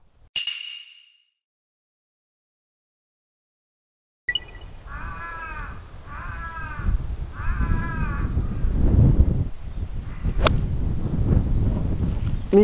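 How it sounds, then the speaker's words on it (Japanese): A crow caws out on a golf course, three clear hoarse calls in a row set against outdoor wind noise, followed by faint background murmur. "カラスやな、今の。"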